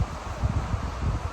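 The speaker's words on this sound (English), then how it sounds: "the place is so windy and so nice" Steady outdoor wind in Jamaica gusting against the microphone, a low rumbling rush with faint rustling, fairly loud and continuous with no voices.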